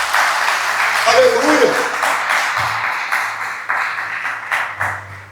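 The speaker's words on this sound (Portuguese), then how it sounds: "Você pode aplaudir o teu Deus nessa manhã." A Portuguese-speaking church congregation applauds during a Sunday morning service, a steady roomful of clapping that tapers gradually, with voices calling out and speaking over it.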